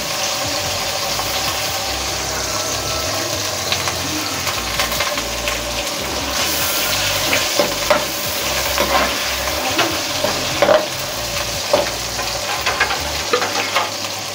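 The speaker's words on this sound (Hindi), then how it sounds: "इसे चला लें अच्छी तरह से। तकरीबन 2 मिनट तक इसे चलाएं।" Aloo palak, potatoes and spinach, being stirred as it fries in a pan: a steady close sizzle with scraping stirs and occasional clicks of the spoon, continuous and fairly loud with no talking.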